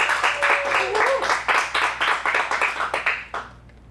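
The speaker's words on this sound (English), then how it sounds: "Let's get a big round of applause." Audience applause for a performer at an adult dramatic acting showcase, a dense round of clapping that holds steady for about three seconds before tapering off quickly into quiet.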